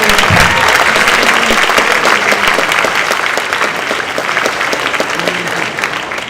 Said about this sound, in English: One more time, let's hear applause for those who